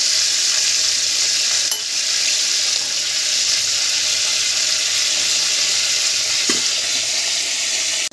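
Chicken breast pieces sizzle steadily in hot oil for a desi chicken roast, a dense continuous frying hiss running throughout with a couple of brief clinks, no talking.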